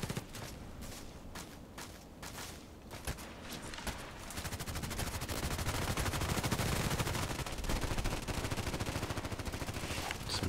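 Gunfire in the video game Contract Wars: scattered single shots give way to sustained rapid automatic bursts and overlapping fusillades, dense and loud throughout, with footsteps mixed in.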